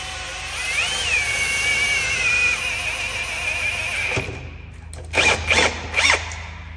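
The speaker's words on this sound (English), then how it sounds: "So I'm gonna go ahead and throw it in the drill." A power drill runs continuously in a steady whine that rises and dips slightly, then stops, followed by a few short whirring bursts.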